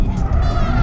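A loud, rough grinding scrape from a drift car's rear coilover mixed with roaring engine and tire noise in an abandoned warehouse, continuous for under a second.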